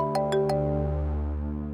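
A phone rings with three quick bright tones over a steady low hum in an indoor scene, each tone close and clear, then fading out.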